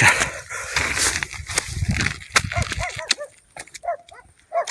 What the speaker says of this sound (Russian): Одні собаки.